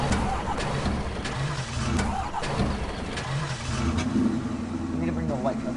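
A light truck's engine starts and runs in Farming Simulator 15, a steady mid-pitched hum that stays fairly loud throughout with a voice talking over it.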